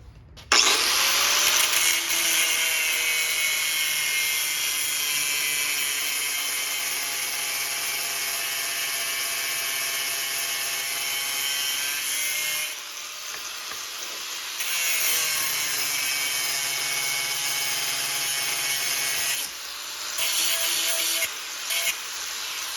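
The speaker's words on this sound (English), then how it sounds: "Let me cut that bolt off." Power tool cutting off a steel bolt during fabrication of a doghouse cover for a cab-over Chevy van conversion, a loud steady high-pitched whine with a brief pause midway, then cutting resumes and tapers near the end.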